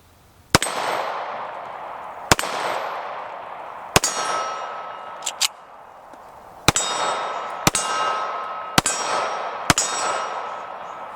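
Colt Delta Elite 10mm handgun fires at a steel target; seven sharp, loud shots ring out at irregular intervals of about one to two seconds, each followed by a metallic clang and a short decay.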